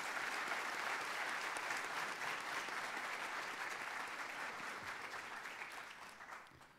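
Sustained applause from a graduation ceremony audience welcoming the faculty, steady dense clapping throughout that tapers slightly at the end.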